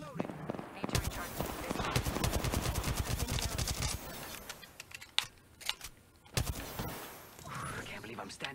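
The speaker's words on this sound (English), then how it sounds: "The enemies are shooting at me." Rapid enemy gunfire in Apex Legends, bursts of fast automatic shots rattling for several seconds, then scattered single cracks, with a player's voice talking over parts of it.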